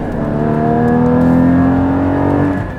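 Porsche Cayman GT4 engine revving loudly and close, a smooth rising then easing mechanical howl held steady for a few seconds, with no talking.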